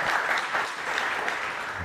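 Audience applause fills a conference hall after a speaker's introduction, a steady dense wash of many hands clapping throughout, with a faint voice underneath.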